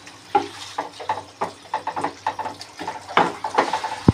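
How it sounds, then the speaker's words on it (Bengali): Broccoli and potato curry stirred lightly with a spatula in a pan, giving soft repeated scraping and wet stirring strokes at a moderate pace, close and clear with no talk. "খুন্তি দিয়ে হালকাভাবে একটুখানি নাড়িয়ে দিলাম"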